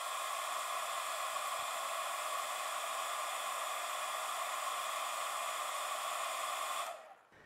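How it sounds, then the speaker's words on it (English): A hairdryer set to maximum heat, drawing around 1650 watts from an off-grid pure sine wave inverter, blows with a steady, loud, close whooshing roar and a motor whine, then cuts off abruptly near the end. "I'll be using a hairdryer set to maximum heat, which draws around 1650 watts."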